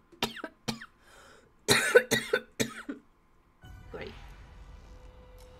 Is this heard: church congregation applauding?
no